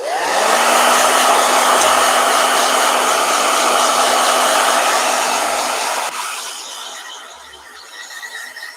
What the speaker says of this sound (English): So blow dryer.